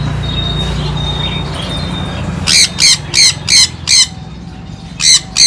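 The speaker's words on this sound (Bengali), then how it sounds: "দেখতে পাচ্ছি সানকনিয়ার পাখি আছে" A sun conure parrot in a bird shop lets out a run of loud, harsh squawks in quick bursts, about seven in all, over a steady background hum.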